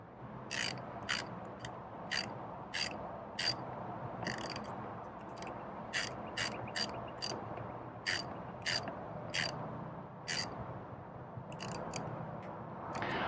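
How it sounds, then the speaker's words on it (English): A ratchet wrench tightens a bolt on a sagging chain link gate, with a steady series of crisp, close clicks in short bursts over about thirteen seconds. No voices are heard. "So we'll go ahead and tighten up the second one."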